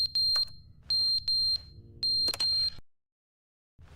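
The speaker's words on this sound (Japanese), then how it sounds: "火災報知器。" A smoke or fire alarm chirps in rapid high-pitched beep bursts, repeating in three clusters over a low background hum, in The Stanley Parable Ultra Deluxe, then cuts to silence.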